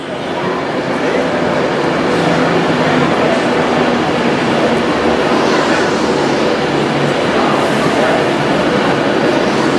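A Pendolino electric train rumbles loudly and steadily close by, a dense broadband roar with a faint high whine riding over it and no break throughout.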